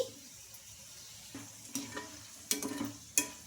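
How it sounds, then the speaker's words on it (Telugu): Egg-coated peanut snack frying in oil until crispy, a soft steady sizzle close by with a few sharp pops and stirring clatters toward the end. "బాగా క్రిస్పీగా వచ్చే వరకు ఫ్రై చేసుకోవాలి"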